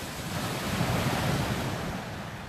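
Sea waves wash onto Eastney beach: a steady, loud broadband rush of surf with wind buffeting the microphone, continuous throughout with no talking.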